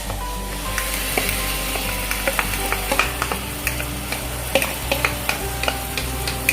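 Tomato puree hits melted butter in a pan for paneer butter masala, a continuous sizzle broken by frequent sharp clicks and scrapes of a spoon stirring against the metal, with no voices.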